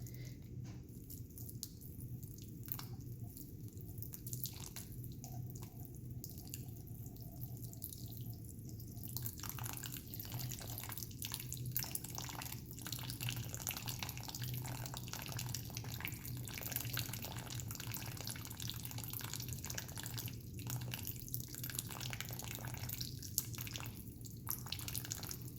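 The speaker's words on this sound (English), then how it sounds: "So go ahead and watch what's happening as the water is flowing." Water runs steadily through a channel on a stream table in a lab, a continuous close trickle with small drips and splashes, with no talking.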